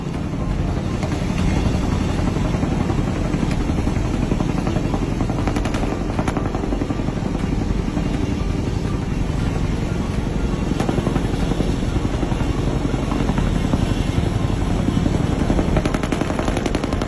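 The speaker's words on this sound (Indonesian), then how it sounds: "Formasi operasi khusus besar yang terdiri dari helikopter angkut besar, helikopter Black Hawk, dan helikopter serang Apache melakukan penerbangan panjang lurus di" Black Hawk and Apache military helicopters along with a large transport helicopter fly in formation over Caracas, a dense, steady rotor roar with rapid chopping thumps that stays loud and close throughout, with no voices.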